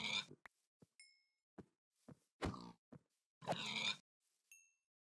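Minecraft pig grunting in separate short bursts, interspersed with small plops, knocks and bright pickup chimes, fairly close and clear with silence between sounds.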